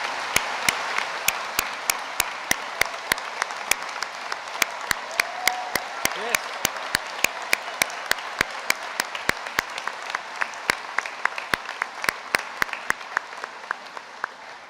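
Audience at a University of Portsmouth graduation ceremony breaks into sustained, even applause, a dense wash of clapping with sharp individual claps standing out close by throughout.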